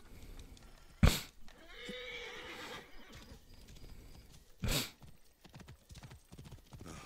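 Quiet horse hoofbeats clop along in Assassin's Creed Origins, with two sharp bursts and a whinnying neigh over a faint background.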